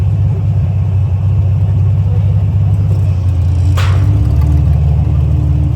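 A 1946 Willys CJ2A jeep engine chugs at a low, steady rumble, then its pitch lifts slightly as it pulls away, with a brief squeak or hiss in the middle.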